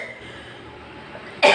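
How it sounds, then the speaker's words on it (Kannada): A single sharp cough bursts out abruptly at the very end, loud and close after near silence, from a person with a heavy lingering cough following a fever. "ಸ್ವಲ್ಪ ಕೆಮ್ಮು ಜಾಸ್ತಿ ಇದೆ"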